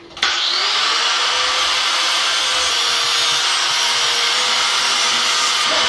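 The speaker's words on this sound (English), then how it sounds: "I like to use my angle grinder to sharpen the spoon." An angle grinder sharpens a metal spoon, giving a loud, steady high-pitched whine with broadband grinding hiss that starts abruptly and holds continuously.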